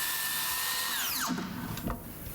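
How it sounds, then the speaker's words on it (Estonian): A power sander with a dust-extraction vacuum works wood bench parts, a steady whine with a high tonal band that sweeps downward midway as the tool spins down, then rougher scraping contact, close and fairly loud. "Lihvime jälle sellise mugava lihvimisklotsiga, millel on ka taga tolmuimeja"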